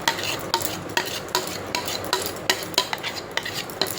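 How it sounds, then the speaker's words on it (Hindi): A spoon scrapes thick paste out into a large cooking vessel. The strokes are quiet and rhythmic, about two per second, each a short metallic scrape, with no voices. "चम्मच की सहायता से मैं सारा पेस्ट इसमें निकाल दूँगी"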